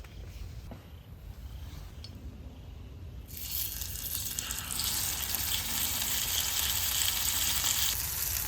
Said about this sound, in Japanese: 霜降り牛、値段はちょっとですけど、こいつを焼き上げしていきたいと思います